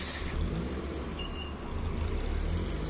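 A car pulls away after its handbrake is released, a steady low engine rumble with road and wind noise, fairly loud and close, swelling slightly as it drives off.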